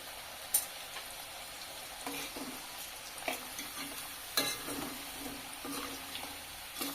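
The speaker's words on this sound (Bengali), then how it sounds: "এগুলো আগের মতোই সেম পদ্ধতিতে হালকা করে ভেজে তুলে নিচ্ছি" French fries frying in oil crackle quietly and steadily, with a few sharper clicks and scrapes as they are stirred and lifted out, close but faint.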